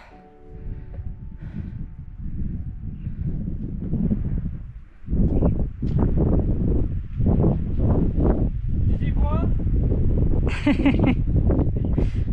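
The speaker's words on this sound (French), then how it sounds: "apparemment il y a du vent encore" Wind gusting on a high mountain pass at around 2650 m, buffeting the microphone in rough, uneven surges with a brief lull midway; a voice speaks briefly near the end.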